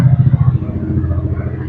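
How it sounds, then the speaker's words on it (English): Loud car passing near a home front yard garden, a close pulsing engine rumble that fades quickly as it goes by. "that car was very loud"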